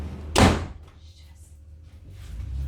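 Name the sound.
fridge door nearly slamming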